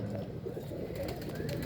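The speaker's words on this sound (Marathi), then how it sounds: "ही कोलकाता आईजमध्ये कबूतर आहे" A Kolkata Eyes pigeon from Somnath Haider's loft, soft low cooing close by, quiet and brief against a faint room background.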